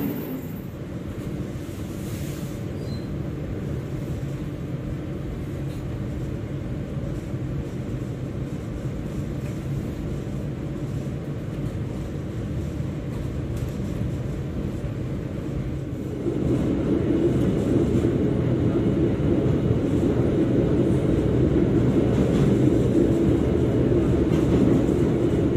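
A low, steady rumble of the Sembrani passenger train departing Jakarta's Gambir station, growing slightly louder and heavier midway through, with no voices.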